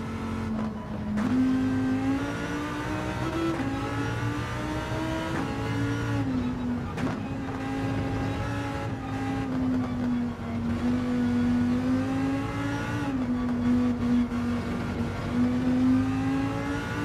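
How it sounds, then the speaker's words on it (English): A Lamborghini Huracan GT300 race car in Gran Turismo 7, lapping Suzuka from onboard: a loud, continuous engine note rising and falling through gear changes, with steady high revs and no talk. "This is a Lamborghini Huracan."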